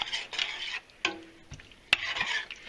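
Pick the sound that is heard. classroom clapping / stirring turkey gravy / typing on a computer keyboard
stirring turkey gravy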